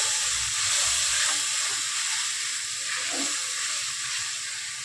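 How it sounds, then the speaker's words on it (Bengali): Turmeric and spices sizzle in hot oil for a tengra fish curry, a steady loud frying hiss throughout with faint stirring scrapes. "এক চামচ হলুদ দিয়ে দিলাম ভালো করে কষিয়ে নেবো"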